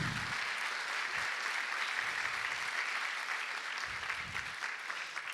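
Church congregation applauding during a Spanish-language sermon, a steady wash of clapping from many hands held at an even level throughout, with no voices rising above it.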